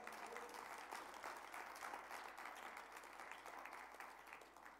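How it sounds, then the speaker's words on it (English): A church congregation claps together as an offering of praise during a worship service, producing a soft, distant, continuous patter of many hands at a low level that fades slightly at the end. "give a clap offering to the Lord"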